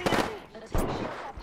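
Gunfire from enemy players in the shooter game Apex Legends crackles in dense, loud bursts that fill the whole clip, with a sharp spike near the middle.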